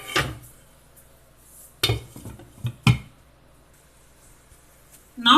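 Lid set down on a cooking pot of paneer butter masala gravy, two or three sharp metallic clanks spaced about a second apart with a brief rattle, close and fairly loud, then quiet.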